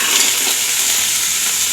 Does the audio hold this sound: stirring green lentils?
yes